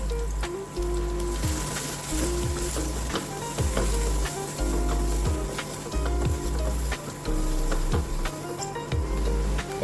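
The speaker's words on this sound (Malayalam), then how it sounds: "നമ്മുടെ തേങ്ങയും ഉള്ളിയൊക്കെ നല്ല വൃത്തിയായിട്ട് വഴട്ടിയെടുത്തിട്ടുണ്ട്" Coconut pieces and onion frying in a pan with rice for a chana roast snack, loud continuous sizzling broken by regular, rhythmic thumps and scrapes of stirring, no talking.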